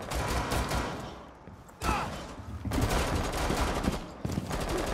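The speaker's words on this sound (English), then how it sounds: "Okay, I gotta use my pistol." Gunfire in the video game Rainbow Six Siege, including pistol shots: dense, continuous bursts of shots over loud game noise, briefly dropping off before resuming.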